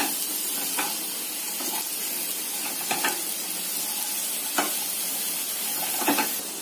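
Sliced bitter gourd and onions fry in a pan, giving a steady sizzle with the intermittent scrape and clatter of stirring, heard close and alone without any voices.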